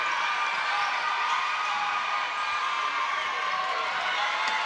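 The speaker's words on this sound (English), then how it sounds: "And just listen to the crowd." A crowd at a Botswana versus Singapore netball match roars in a steady, sustained wash of cheering and excited noise, dense and unbroken throughout, with no distinct voices standing out.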